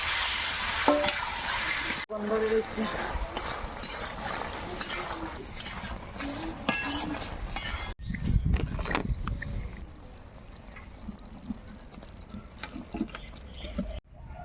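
Chopped tomato, salt, turmeric and meat cooking in a pan give a close sizzle with scraping and stirring, then a quieter simmer after a cut, with some faint talk.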